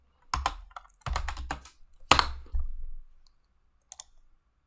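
Fingers type on a computer keyboard in several quick clusters of clicky keystrokes, close and crisp, separated by short silences, with a few faint taps at the end.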